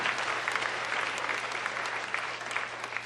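A church congregation applauds during an Easter sermon, a steady close wash of clapping with a low hum beneath, fairly quiet overall and uninterrupted.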